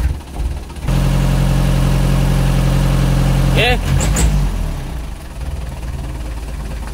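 Isuzu 4BC2 truck diesel engine starts and settles into a steady, loud idling rumble after clutch repair, with brief squeaks and a voice speaking over it partway through.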